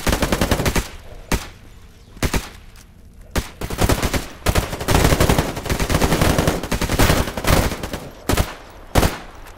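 Gunfire in the game S.T.A.L.K.E.R. GAMMA: loud, close bursts of automatic fire and single shots, sharp cracks with short gaps between volleys, no voices over them.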